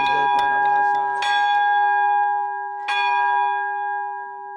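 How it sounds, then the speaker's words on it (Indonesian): Church bell on Nias tolling to announce a death, three ringing strikes with long sustained, slowly fading resonance, clear and fairly near, no voices. "Lonceng dibunyikan sebagai pengumuman kepada masyarakat jika seseorang telah tiada."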